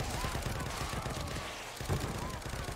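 Rapid gunfire from an invisible gun in The Evil Within 2 rattles in a dense, continuous stream, fairly faint and muffled under a busy game mix.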